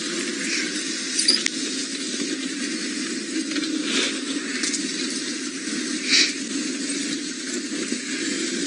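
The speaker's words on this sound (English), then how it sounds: "monkey oranges make so much noise when you drive over them" Steady safari vehicle rumble with scattered pops and crunches as tires roll over fallen monkey orange fruits, a few louder cracks standing out.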